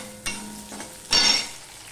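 Thinly sliced potato added to onions frying in oil in a pan, giving a couple of sharp sizzling bursts as the slices hit, the loudest near the end, then a low steady fry.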